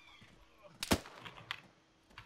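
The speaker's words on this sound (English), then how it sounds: "Doing suppressing fire." Suppressing gunfire in the Arma 3 military shooter game, a few sharp, faint shots spread over a couple of seconds against low background noise.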